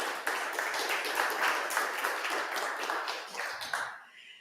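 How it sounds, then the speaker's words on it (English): Audience applause for a reader being welcomed at a climate-themed event, a dense, steady patter of many hands that holds strong and then thins out toward the end. "with a big applause"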